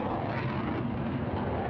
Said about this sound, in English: The Dutch F-16 is always one of the most impressive fast jet demonstrations on the European circuit.